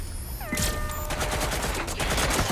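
Rapid gunfire from the video game Watch Dogs: Legion, a loud burst of overlapping shots running continuously over a steady low rumble, with no talk over it.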